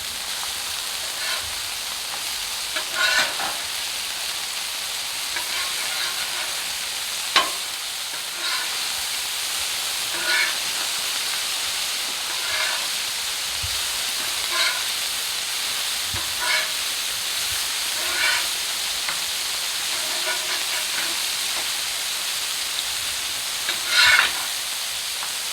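Smashed burger patties sizzle on a cast iron griddle pressed with a Cuisinart burger press, a steady close hiss of frying with scattered scraping clicks and spatula knocks as the patties are flipped.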